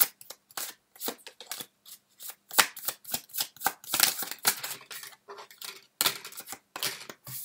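Tarot cards shuffled by hand in quick, crisp riffling bursts, close and clear, with short pauses between runs and no talking.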